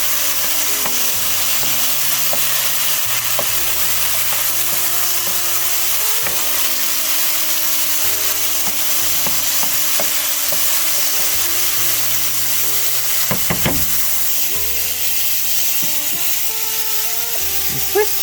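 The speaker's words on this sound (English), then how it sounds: "This is sizzling away." Swiss chard and mushrooms sizzle steadily in a pot, a constant close frying hiss with occasional stirring clatter and a low hum beneath.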